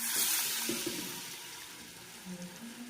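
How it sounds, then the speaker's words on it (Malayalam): Water pours from a glass into a hot pan of fish curry base, with a brief rushing splash at first and then a soft sizzle and bubbling that fade as the liquid settles. "ഈ ഒരു ഗ്ലാസ്സിന് 1 ഗ്ലാസ് വെള്ളം നമുക്ക് ചേർത്ത് കൊടുക്കാം"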